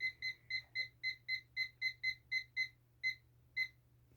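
An alarm clock timer set for cookies baking in a 350 degree oven, beeping in a fast, steady series of about a dozen bright double-tone beeps, then a few slower final beeps, clear and alone over a low hum.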